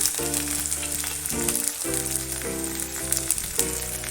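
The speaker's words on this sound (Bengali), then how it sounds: "পেঁয়াজটা হালকা ভাজা হয়ে গেছে, রসুনটাও হালকা ভাজা হয়ে গেছে।" Onion and garlic lightly frying in oil in a pan, a steady close sizzle running throughout over a tonal hum.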